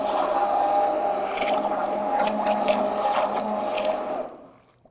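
Vitamix immersion blender whirring through cashew cream of mushroom soup in a pot, a steady close motor drone with a wet churning texture that holds for about four seconds, then cuts off into quiet.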